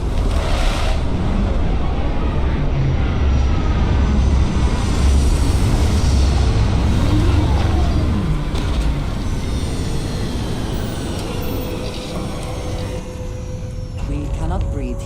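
Spaceship touching down in Starfield, a sustained loud rumbling roar with wind-like noise and low mechanical drone throughout, a voice talking over it.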